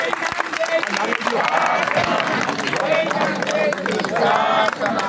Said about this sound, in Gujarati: આ જોરદાર તાળી પડવી જોઈએ